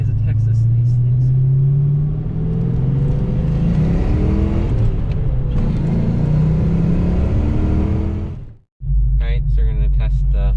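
Ford car engine with a replaced TFI ignition module revving up toward 4,000 RPM, a loud close rising whine and roar that drops away, then a brief cutoff before the engine settles back to a low idle, with voices at times.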